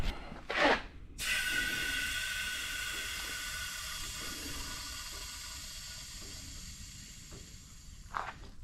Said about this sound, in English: Let me let the pressure off